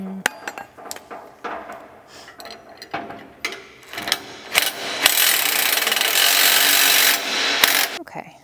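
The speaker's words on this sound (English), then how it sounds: "And we are going to tighten this 5/8 bolt that we placed, that the swivel pivots on" A ratchet or impact tool tightens a 5/8 bolt serving as the swivel pivot on an Eagle Talon ATV/UTV plow push tube, with scattered clicks and taps giving way to a sustained, loud mechanical whir near the end.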